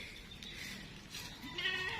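Boer goats grazing on a goat farm housed in a converted pig pen bleat nearby, a couple of wavering calls rising near the end over faint background noise.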